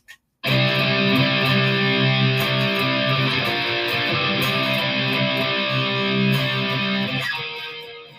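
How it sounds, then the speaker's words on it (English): Heavily distorted electric guitar plays a sustained, driving riff, loud and unbroken for several seconds, with a brief plucked note just before it starts. "So with distortion, the way it sounds is."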